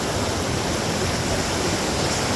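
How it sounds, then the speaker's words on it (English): Small creek flowing through a stone-bridged valley in the Great Smoky Mountains, its steady, even rush of water filling the whole stretch with no pauses or voices. "This little creek that runs through here."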